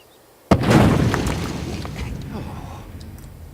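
An explosion in The Sims 3 video game: a sudden loud boom bursts after a brief quiet moment, then rumbles and decays over several seconds with scattered crackles.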